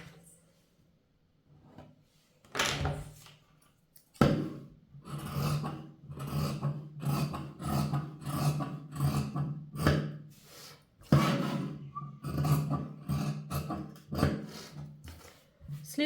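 Scissors cut blouse fabric along a marked sleeve line, a series of close, rasping snips in an irregular rhythm after a quiet start, with no one speaking.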